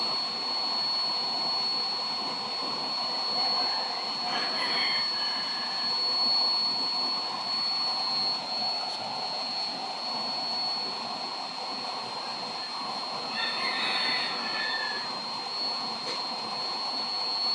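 A double gas burner fed by a blower roars steadily during a running test: a continuous, even rush of flame and air with a thin whine on top, and no talking.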